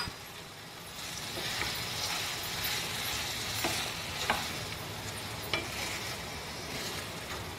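Tomatoes fry in a pan for ridge gourd chutney, giving a continuous close sizzle with a few sharp clicks of a utensil against the pan scattered through it.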